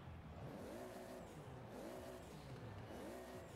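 Hot Wheels car engine in Forza Horizon 4 with a super engine, a steady loud racing drone with repeated rising rev sweeps, heard without talk.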